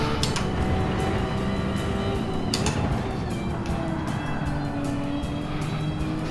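Porsche 996 engine held at full throttle in fifth gear in a racing video game on the Nordschleife, a loud steady drone with a constant engine tone throughout, the car alone with no talk.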